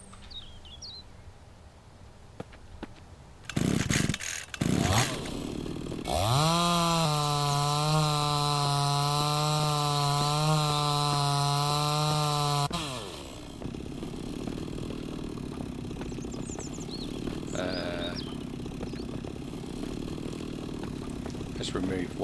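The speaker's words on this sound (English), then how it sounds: "Let's get the chainsaw out" A chainsaw in the survival game Mist Survival starts with a couple of sharp clunks, then revs into a loud steady buzzing drone for several seconds as it cuts wood before cutting off and leaving quiet ambience, with talk in the background.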